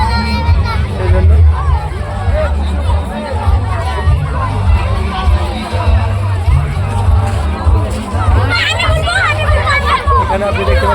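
Dense crowd chatter and babble at a newly opened holiday water park in Nuthangram, Murshidabad, a steady packed hubbub of many voices throughout, with brief excited shouts near the end.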